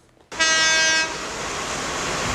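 The retired Kuanghua train, decorated as a wedding car, sounds a loud, sustained horn blast that cuts off into a steady, broad rumble of the train rolling nearby.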